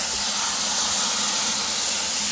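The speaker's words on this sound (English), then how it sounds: "we're just going to start spraying water on it" A hose sprays water onto a compost mixture in a steady, loud, close hiss that runs without break for the whole stretch, with no voices.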